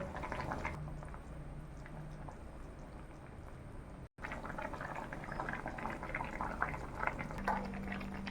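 A Bengali-style aloo paneer curry gravy with potato and paneer bubbles at a steady boil in a pan. The simmering is continuous and close, dropping out for a brief moment midway.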